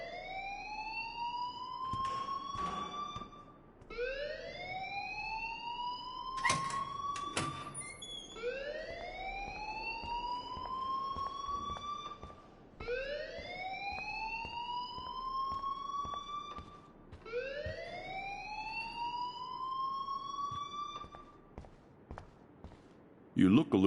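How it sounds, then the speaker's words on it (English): Fire alarm ringing in the video game Life Is Strange: a repeating electronic whooping tone that sweeps upward in long cycles, about five in a row, steady and moderately loud, with occasional brief clatter underneath and no talk. "please turn off that alarm since that's your job"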